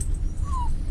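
Dog Maggie gives a single short, thin whine that slides slightly downward, close by, over a steady low rumble like a running vehicle.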